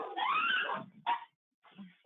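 A dog barks and whimpers nearby in a few short, loud bursts with brief gaps between them, then a softer whine at the end.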